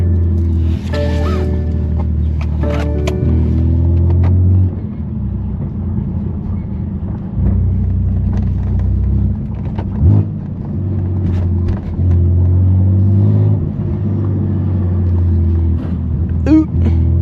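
A BMW F80 M3 Competition with a straight pipe exhaust rumbles deep and loud while driving through the city, with low droning cruise, occasional revs and pops, and people talking in the cabin over the engine note.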